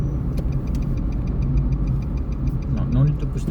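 A car engine idles and runs steadily at low pitch inside a vehicle during a driving lesson, with a regular faint ticking over the hum and a voice speaking briefly near the end.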